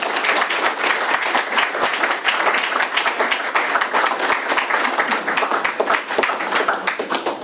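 Enthusiastic applause from a crowd, continuous dense clapping throughout, loud and close.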